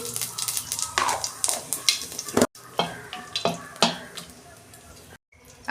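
A bay leaf, a dried chilli and whole cumin spit and crackle in hot oil in a kadai, a series of sharp sizzling bursts and clatters with two short silent gaps.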